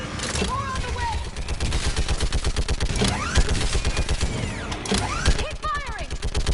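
Gunfire in the Mass Effect video game: dense, rapid bursts of automatic weapon fire crackle continuously, layered with sci-fi weapon whines and rising electronic tones, loud and busy throughout.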